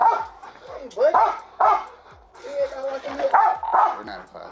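A police dog barks repeatedly in loud, rapid bursts inside a patrol car after a chase, the barks close and harsh while someone talks over them.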